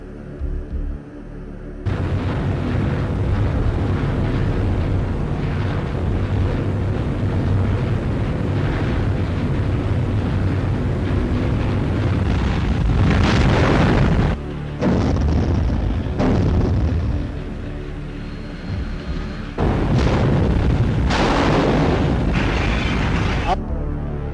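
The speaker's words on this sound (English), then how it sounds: "The familiar ping of sonar from an approaching ship would be followed by the explosions of depth charges." Depth charges explode in heavy, sustained deep booming rumbles that roll on and on, loud and reverberant, with a few abrupt breaks between long stretches of explosive roar.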